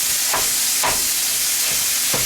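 A pound of ground Wagyu beef sizzles loudly in a pan for a pepperoni lasagna, a constant hiss of frying broken by a few soft scraping knocks as the meat is broken up.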